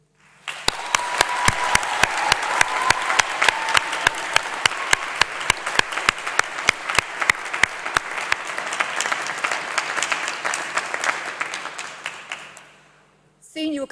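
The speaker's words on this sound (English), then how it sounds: "please give a round of applause and huge cheer to say thank you to the friends, family and supporters who've made today possible" Graduates clap at a graduation ceremony in a large hall. The applause is dense and sustained for about twelve seconds, with sharp individual claps standing out, then it fades out.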